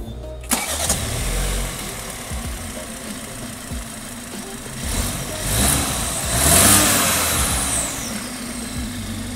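A BMW 3 Series Touring M Sport engine cranks and fires with a sharp start, settles into a rumbling idle, then revs up loudly a couple of times before easing back. No voices are heard.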